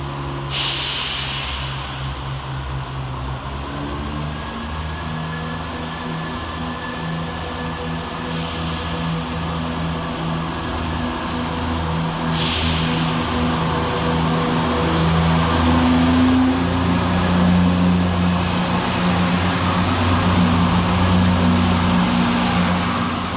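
ScotRail Class 170 passenger train 170396, running from Edinburgh Waverley to Glenrothes, passes Edinburgh Gateway station with a loud steady diesel engine drone and rushing hiss that builds gradually toward the end.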